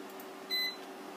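Control beeps from a K&H HIN-3420-6 induction cooktop, made in Germany: one short, clear electronic beep, close and fairly loud, over a quiet background hum.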